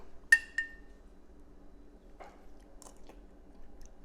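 Biting into stuffed bell pepper soup: one sharp crunchy bite, then a few soft chewing and faint clinks of a spoon against a bowl, close and quiet with no talking.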